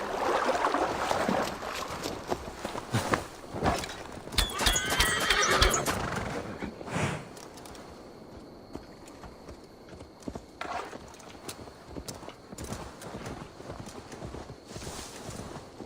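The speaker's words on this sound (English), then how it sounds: "Now to deliver Magni his horse." A horse in Assassin's Creed Valhalla neighs loudly and its hooves clip-clop in a quick run of hits, then the steps thin out to scattered, fainter footfalls as the scene quiets.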